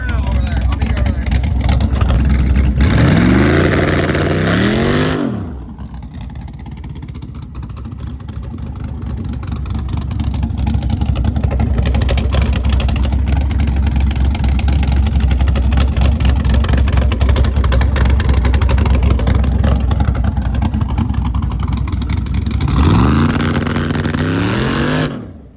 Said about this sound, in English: Try it again, but in first gear. And do a little burnout over there.